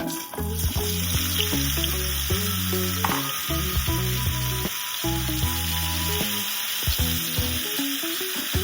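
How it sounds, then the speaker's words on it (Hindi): Mushrooms dropped into hot oil for a restaurant-style mushroom masala sizzle and fry steadily up close, with the clatter of stirring through the continuous hiss. "तेल अब गरम हो चुका है, अब इसमें मशरूम डालते हैं।"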